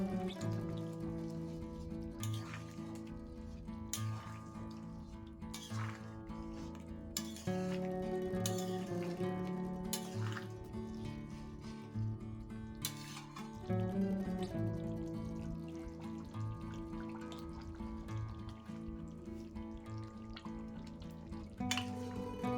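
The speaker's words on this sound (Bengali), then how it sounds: "পাওয়ারটা হাই করে ঝোলটা ভালো করে ফুটিয়ে নেব।" Mutton curry gravy boils hard in a pot on high heat, with a steady stream of wet bubbling pops and drips over a continuous low hum, and no voices.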